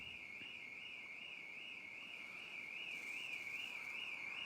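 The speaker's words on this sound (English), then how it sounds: "It's even set the alarms going." Car alarm wailing in the distance, a steady warbling electronic tone that rises and falls continuously over faint outdoor background noise, holding on throughout without talk.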